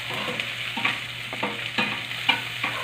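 Onions sizzle in a pan for chicken pinatolahan, with steady frying hiss and rhythmic stirring scrapes about every half second, close and with no talk.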